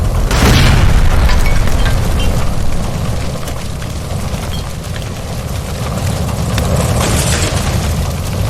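A gas line blowing up in the video game L.A. Noire, a loud sudden boom followed by a sustained roaring rumble of fire and debris that holds steady for several seconds.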